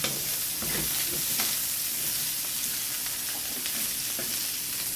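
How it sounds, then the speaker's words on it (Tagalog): Meat for pansit bihon canton sautés in a pan, giving a steady, close frying sizzle with soft stirring scrapes, no voices. "Kapag medyo brown na yung karne, gisa na po natin."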